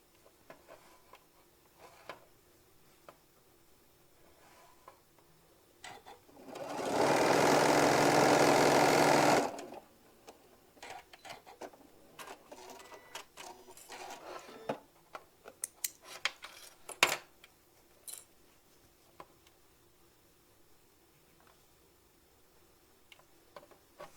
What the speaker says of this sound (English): So we're going to be sewing one side and then spinning it around and get the other side sewed.